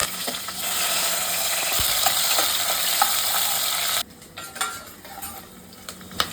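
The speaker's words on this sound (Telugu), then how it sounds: "ఇట్లా ఉల్లిగడ్డ కరివేపాకు వేసేసి ఇట్లా వేయించుకొని" Onion and curry leaves fry in a hot pan with a loud, steady sizzle. A spoon stirs them and scrapes the pan, and partway through the sizzle drops sharply, leaving quieter scraping and clinks.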